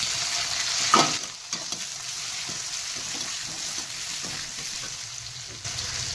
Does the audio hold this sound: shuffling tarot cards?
no